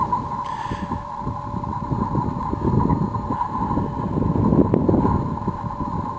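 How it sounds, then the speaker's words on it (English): Wind over high open farm fields in Bradford County, a constant roaring buffet on the microphone with a steady hum underneath and no talking. "It's always pretty windy up here."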